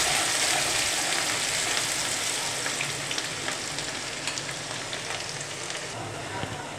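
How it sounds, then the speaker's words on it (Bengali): Chopped onion hits hot oil in a pan for a fish-head and Malabar spinach dish, giving a loud, steady, crackling sizzle that lasts throughout with small pops. "তেলটা কিন্তু গরম হয়ে গিয়েছে, এখন আমি এতে পেঁয়াজ কুচি দিয়ে দিচ্ছি। পেঁয়াজটাকে একটু আমি ভেজে নেব।"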